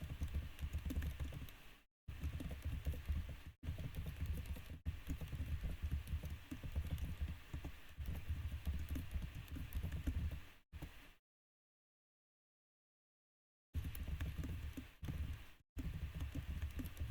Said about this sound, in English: That's actually me clicking.